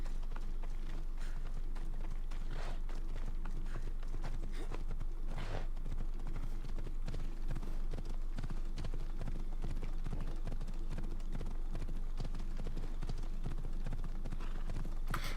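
Horse hooves clip-clop steadily on the ground in Assassin's Creed Odyssey, a continuous brisk rhythm of hoofbeats under a constant low game hum.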